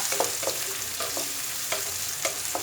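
Cumin seeds and onion masala sauté in a pan for stuffed okra, a steady close sizzle broken by regular soft scrapes and clinks of a spoon stirring, no voices.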